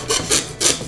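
Small hand saw cutting plastic cake dowels, three quick rasping strokes close by in a short rhythmic burst.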